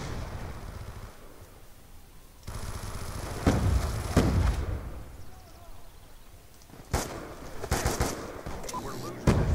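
Gunfire in Call of Duty Black Ops 2 multiplayer: scattered bursts of rapid shots and louder volleys crack out, some near, some more distant, while a player talks over the action.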